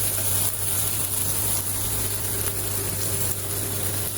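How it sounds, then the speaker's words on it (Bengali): Ginger and garlic fry in a pan, giving a steady close sizzle over a constant low electrical hum. "আদা রসুনটা ভাজা হয়ে গেছে"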